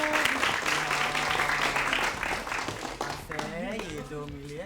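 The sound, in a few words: audience applause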